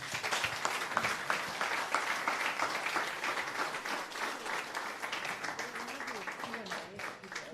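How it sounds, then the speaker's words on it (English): An audience at a community discussion event in Dubuque claps in steady, continuous applause, heard somewhat distant and soft throughout. "So can we give them a round of applause,"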